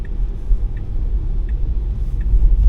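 A 2019 Tesla Model 3 Dual Motor (350 hp) rolls along a road toward a town, its cabin filled with a steady, loud low rumble of road and tyre noise that swells slightly near the end, with no talking.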